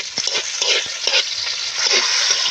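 Tomato, onion and garlic sauté in a pan with a bright, close sizzle and irregular stirring clatters throughout.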